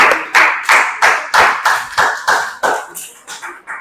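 A class of students claps in unison, about ten sharp, close hand claps in a steady rhythm that grows softer and quicker toward the end.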